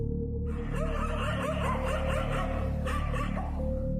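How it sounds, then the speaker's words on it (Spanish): Several dogs bark and yip in rapid overlapping bursts while fighting over food, loud and close above a steady low background hum. "Lo único que se escuchaba aparte de nuestras voces era el ladrido de los perros que se"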